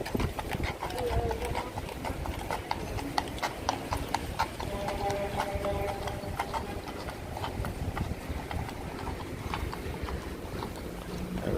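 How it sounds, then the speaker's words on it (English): Horses clip-clop along a New York street near the Hudson, their hooves striking in a steady, close rhythm over low city background noise, with a voice briefly heard. "Horses are going back into where they live."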